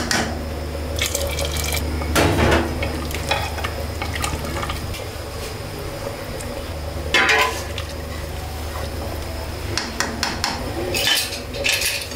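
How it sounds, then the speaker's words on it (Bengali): Water is poured into a pressure cooker over fried basmati rice for khichuri, making bursts of splashing and gurgling. Spoon clinks and a faint sizzle come between the pours. "আমাদের ভাজা হয়ে গেছে, এখন পানি দিয়ে দিব।"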